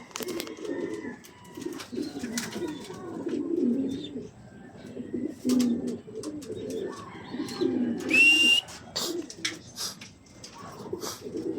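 Pigeons coo in low, repeated throaty phrases close by at an outdoor training session, with occasional chirps and a brief high call amid light background noise.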